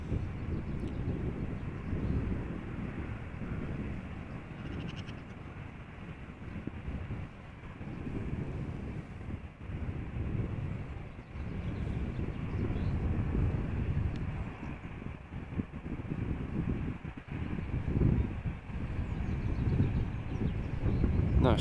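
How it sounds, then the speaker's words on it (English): An Airbus A319 bound for London Gatwick at Amsterdam Schiphol Airport gives a steady, broad low roar that swells and fades gently across the whole stretch, with heavy wind buffeting on the microphone and no talking. "it is indeed an A319 going to London Gatwick"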